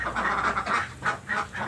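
Laying ducks on a duck farm quack in a busy, overlapping chorus of nasal calls, close and fairly loud, with no talk over them.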